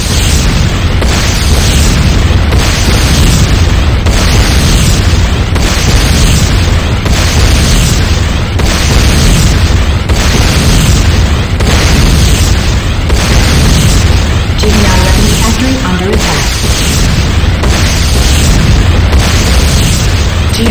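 A factory blows up in Command & Conquer Renegade as a loud, continuous rumbling explosion that rolls on for about twenty seconds, with repeated booming pulses and no talk.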